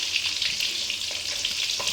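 Fish frying in oil in a pan, a steady bright hiss and crackle with faint stirring clicks, close and fairly loud throughout.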